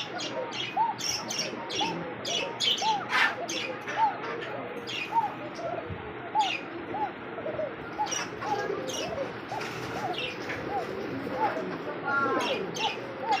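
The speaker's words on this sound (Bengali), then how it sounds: "দেখার মতো ককা কবুতর। হ্যাঁ এটা ডাকটা দেখেন" A pigeon coos repeatedly in a regular rhythmic pattern, close and clear, amid chirps and flutters from other pigeons, with someone talking over it.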